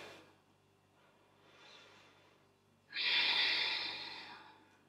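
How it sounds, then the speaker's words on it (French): Breathing during a yoga exercise: a few soft, faint breaths followed by one loud, close exhale with a breathy hiss that slowly fades. "Et on respire."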